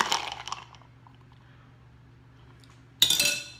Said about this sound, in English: I just have the pleasure of stirring it